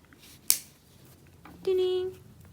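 Jewelry wire is snipped while wrapping a noodle tube bead, heard as one sharp, close click from the cutters, followed later by a brief tonal ring.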